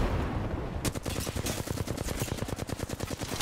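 Sustained automatic fire in Apex Legends: a fast, evenly spaced burst of loud, close shots runs steadily for nearly three seconds after a brief lull.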